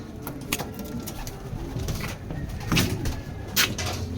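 Racing pigeons cooing inside a loft during race training in Cabuyao, Laguna, with repeated soft throaty coos and rustling close by, alone and without talk.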